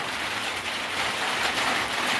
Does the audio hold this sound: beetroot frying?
no